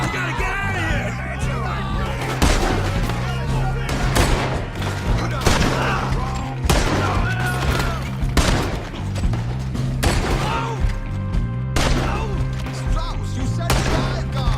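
Repeated gunfire erupts in a Red Dead Redemption 2 shootout, loud close shots and volleys cracking every second or so over a steady rumbling game soundtrack, with shouting voices in between.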